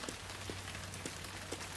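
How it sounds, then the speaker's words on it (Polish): Steady rain patters on surfaces in the video game Heavy Rain, a dense, even hiss with scattered droplet taps, fairly faint and without talk. "bo pada deszcz"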